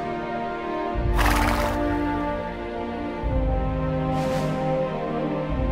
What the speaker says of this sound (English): dear faithful Henry, brave horse, kind companion, that had followed her all the way into freedom